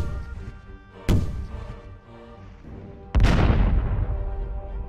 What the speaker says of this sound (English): At that moment, the pirates fired their cannon into the sky.